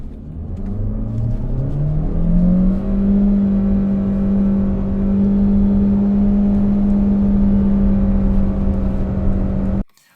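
A 2025 Jaecoo J5 SUV launches hard from standstill, its engine note climbing steeply then holding a loud, steady drone under full acceleration, recorded close from inside the cabin before cutting off abruptly.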